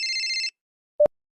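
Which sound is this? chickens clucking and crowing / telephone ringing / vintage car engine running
telephone ringing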